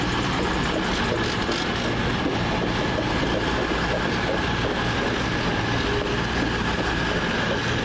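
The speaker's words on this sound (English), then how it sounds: "the 13:49 cross-country service from Paignton to Manchester Piccadilly via Stoke-on-Trent" A CrossCountry passenger train on the Paignton to Manchester Piccadilly service runs through Wolverhampton station, a loud, steady rumble of wheels and engine close by, continuous throughout with no talk.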